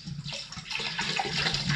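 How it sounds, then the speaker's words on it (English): Tractor tire fluid splashes and gurgles as it is poured into a bucket, a close, steady liquid rush that grows slightly louder and fuller toward the end. "The reason I'm pouring it into a bucket"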